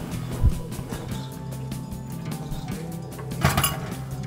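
A spoon stirring yogurt in a metal pot on a Pakistani cooking show, giving soft steady scraping with a couple of sharper clinks against the pot's side, close and quiet.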